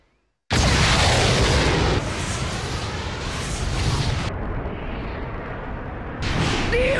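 A sudden loud explosion of lacrima in the anime Fairy Tail bursts in after a moment of silence, followed by a long roaring rumble that fades slightly, then swells again near the end.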